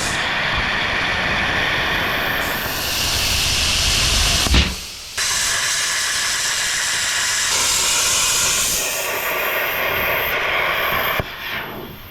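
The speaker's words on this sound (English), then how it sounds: "gonna give it a shot with the plasma" A plasma cutter slices through a steel skid plate for a GMC Safari or Chevy Astro van, a loud, close, steady hiss and roar that cuts out abruptly, restarts and runs on, with a short pause again near the end.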